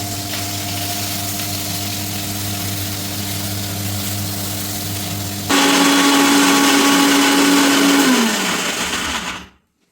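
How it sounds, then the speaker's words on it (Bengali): An electric mixer grinder whirs steadily as it grinds mustard and poppy seeds into paste, then jumps to a louder, harsher pitch partway through before winding down and cutting off near the end. "এখানে মা বেটে নিয়েছে সর্ষে আর পোস্ত বাটা ফর মাছের ঝাল"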